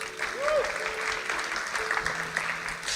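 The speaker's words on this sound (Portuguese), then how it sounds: "Uma salva de palmas para Lucas Martinelli" Steady applause from a church congregation, sustained and fairly even throughout, with faint voices and a brief tonal sound mixed in.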